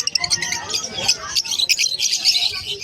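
Gouldian finches at the Malabon Pet Market give rapid, bright chirps and tweets close by, with a low murmur of people talking in the background.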